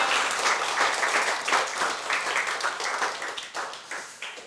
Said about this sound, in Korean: 다시 한번 우리 박수로 환영하겠습니다